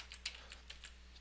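Keys tapped on a computer keyboard while a command is entered, a quick run of light, close clicks spaced irregularly over a quiet background.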